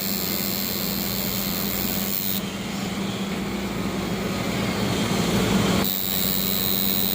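A tattoo machine's continuous electric buzzing hum drones steadily up close, with slight shifts in pitch partway through and no talking over it.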